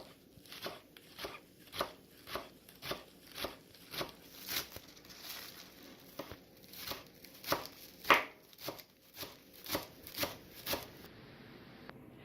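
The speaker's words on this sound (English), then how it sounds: "You finish slicing up the green onions" A knife slices green onions on a cutting board in a steady, crisp rhythm of about a dozen close, regular chops with no talking.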